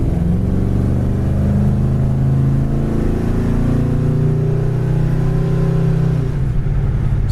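A 1973 Ford Gran Torino Sport with a 351 Cleveland engine picks up speed on the road, a loud, deep, continuous V8 rumble that builds steadily through the run and eases off near the end.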